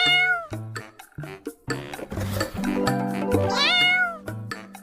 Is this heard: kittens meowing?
yes